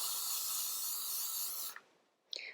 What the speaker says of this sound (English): That spray.